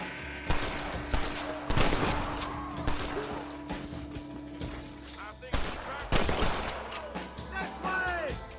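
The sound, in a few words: gunfire from the video game Red Dead Redemption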